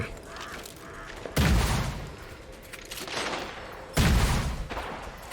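Sniper fire in the Gunfire Reborn shooter: two sharp, loud cracks about two and a half seconds apart, each followed by a rumbling decay over quieter background game sound.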